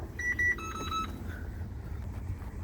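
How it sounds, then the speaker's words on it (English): Several short electronic beeps at a steady pitch ring out from an ambulance over a low rumbling hum, then fade, leaving only the background drone. "quit beeping at me, machine."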